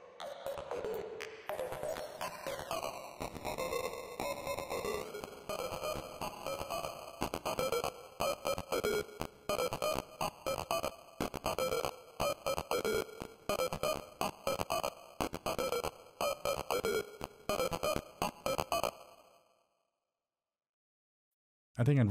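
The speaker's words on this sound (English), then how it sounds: "Maybe some sample rate reduction after the reverb." Stuttering glitch loop in Ableton Live run through reverb and then sample rate reduction, giving buzzy, metallic tonal chops in a fast irregular rhythm for about nineteen seconds before dropping to silence, with no voices.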